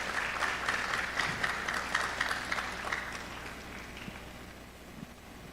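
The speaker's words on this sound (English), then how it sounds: "Let's appreciate him with a wonderful applause" A hall audience at a university student affairs day applauds a deputy director, with a moderate, even patter of many clapping hands that gradually softens toward the end, heard at some distance.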